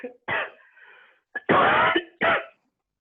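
A few harsh, dry coughs in quick bursts, close and clear, with brief quiet gaps between them.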